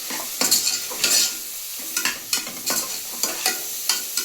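Oil sizzling in a home pan as something is sautéed and stirred, a steady frying hiss broken by repeated scraping spoon strokes at an even rhythm, close and moderately loud with no talk.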